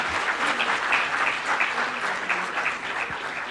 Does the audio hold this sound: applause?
yes